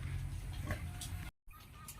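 A sow at a piggery farm gives low, soft grunts with faint background noise and a brief dropout, heard at a distance and fairly quiet.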